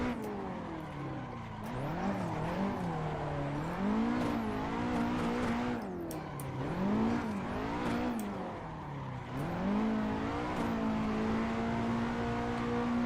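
A race car engine in the driving game Assetto Corsa revs up and drops repeatedly as it shifts through the gears on a small, tight drift track, loud and continuous with rising and falling pitch.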